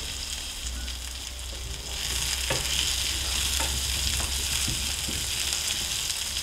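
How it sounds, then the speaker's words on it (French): New potatoes with rosemary sauté in a pan: a continuous, fairly loud frying hiss with scattered spoon scrapes and taps as they are turned. "Il faut faire rissoler les pommes de terre et s'en occuper régulièrement pendant un bon quart d'heure."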